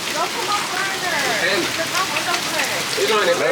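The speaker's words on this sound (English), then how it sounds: "It's raining really bad" Steady, dense rain pours down continuously, with a person's voice faintly audible underneath the downpour.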